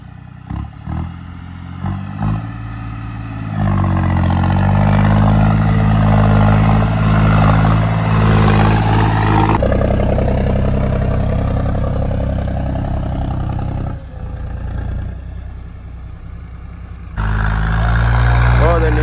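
An Arjun-make tractor engine runs loud and close, rising into a sustained roar after a few stuttering starts, then dropping and surging again, with people talking over parts of it.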